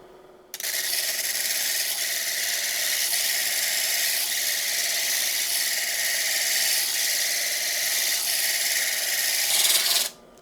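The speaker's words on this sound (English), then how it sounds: "So I've got here my 80 grit diamond disc installed." An 80 grit diamond disc grinds a fire agate cabochon, a loud continuous hissing rasp that starts abruptly and holds steady for about ten seconds before cutting off.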